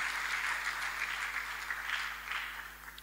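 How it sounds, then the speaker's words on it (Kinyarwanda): A church congregation applauding together, a steady wash of many hands clapping that holds evenly throughout and tapers slightly at the end, with a faint low hum underneath. "Dukomere Imana amashyi niba munyumva neza."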